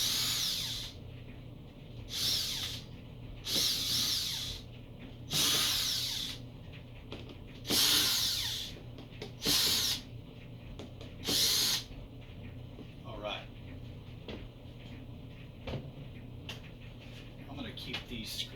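Power drill backing screws out of the lid of a wooden shipping crate holding an LED vacuum exposure unit, sounding as repeated high whirring bursts of a second or two, separated by pauses and clicks, with a person talking between runs.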